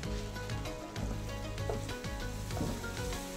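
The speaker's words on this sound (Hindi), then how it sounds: "ये डालने के बाद हम इसको मिक्स करेंगे अच्छी तरह से।" Alfredo pasta sauce with oregano stirred in a sizzling pan: a continuous close sizzle with repeated spoon scrapes and soft clinks against the pan, moderately loud, without talk.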